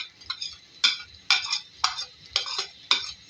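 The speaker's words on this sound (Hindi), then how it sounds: "उसके बाद उसको मिक्स करेंगे" Aloo gobi with chopped coriander being stirred in a pan, a spoon scraping and clinking against the metal in roughly six bursts spaced about half a second apart, moderately close, with no talking.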